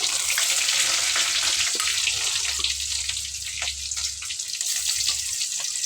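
Steady, loud sizzling of crushed unpeeled garlic, dried chillies and spices frying in hot oil, with crackles and pops throughout and no voices.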